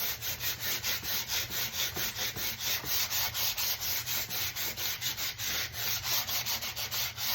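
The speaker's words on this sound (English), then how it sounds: "I gotta get that paint off the edges, so I'll just sand it off" Sandpaper rubs paint off the wooden edges of an old sewing table drawer in steady, rhythmic back-and-forth strokes, close and continuous with no talking.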